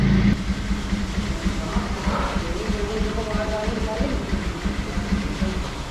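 A Bajaj Pulsar 125 BS6 motorcycle engine with a misfiring problem runs steadily in a service workshop, a continuous low uneven rumble with a pulsing beat, close and moderately loud, with no one talking over it.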